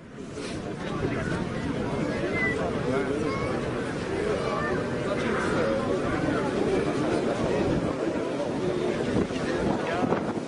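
Strong outdoor wind buffets the microphone near Les Invalides in Paris, a continuous loud low rumble that lasts throughout with no clear pauses.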